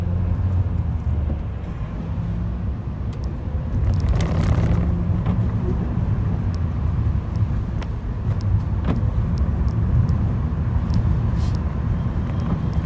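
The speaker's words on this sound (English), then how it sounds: "Right, off to Cliff's to take the car in" A Peugeot 206 CC with a cam belt due for replacement drives in the rain, its steady low engine and road rumble filling the cabin continuously with faint ticks and no talk.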